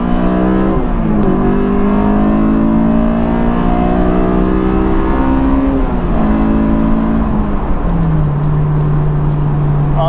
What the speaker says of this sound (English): Let's get down to second gear